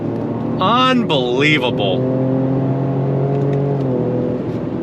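A 2025 Ford Explorer ST twin-turbo AWD SUV drives with a steady engine drone and a rising whine, heard from inside while a man exclaims over it.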